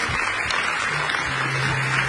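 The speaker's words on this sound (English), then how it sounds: "Oh, that was a really big round of applause." A conference audience claps for a presenter taking the stage, a dense, continuous round of applause that fills the whole stretch at steady strength.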